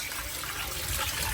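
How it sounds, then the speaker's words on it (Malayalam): Rice being rinsed under water while cooking Kerala-style beef biriyani at home: a soft, steady splash and gush of running water, faint and continuous. "ഈ അരി നമ്മൾ നന്നായിട്ട് കഴുകിയെടുക്കണം കേട്ടോ"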